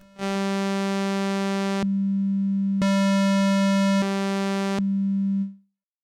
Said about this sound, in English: VCO3, obviously, it's not just the modulation source, it's also an oscillator in its own right, so we can listen to that.